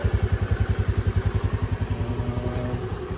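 Honda Navi 2022 motorcycle engine running after a warm start: a steady, rapid putter of low thumping pulses, close and fairly loud, settling into a smoother idle toward the end.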